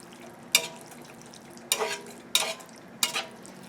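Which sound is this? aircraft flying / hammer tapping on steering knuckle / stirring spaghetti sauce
stirring spaghetti sauce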